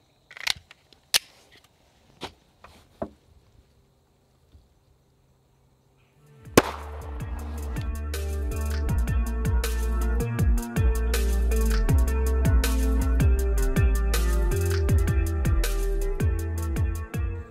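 A ball round with a solid blunt-nose bullet is fired into a ballistics gel block, giving a few sharp isolated clicks and then a loud crack followed by a dense ringing clatter and reverberation that fills the rest.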